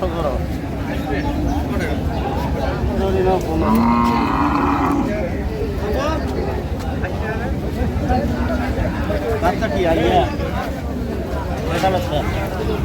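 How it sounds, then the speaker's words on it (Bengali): Dairy cows and calves at Ambari cattle market in Dinajpur, with loud moos rising over a constant crowd babble and nearby voices haggling throughout. "গাভী বাছুর আমরা দেখছিলাম এখানে"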